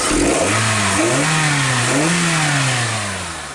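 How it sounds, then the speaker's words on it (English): A 2006 Hyundai Tucson engine losing power, with a P0507 fault code, revs up from idle, rises and dips in pitch over two throttle blips, then settles back down, loud and close. "okay, it revs out."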